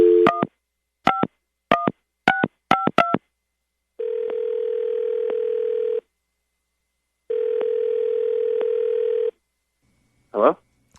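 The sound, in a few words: telephone dial tone and dialing a call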